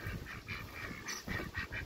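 Chickens gathered at their feeder give a quick run of rhythmic clucking calls, fairly faint and steady, with no voices.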